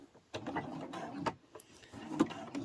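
Sewing machine stitching through a quilted fabric mug rug, a close run of quick mechanical clatters and needle taps with short pauses between bursts, fairly quiet.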